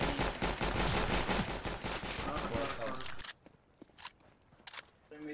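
Gunfire in Counter-Strike: GO: a loud, dense stretch of rapid automatic bursts and shots for about three seconds, then a few sharper isolated shots and faint footsteps, with a voice talking over the game.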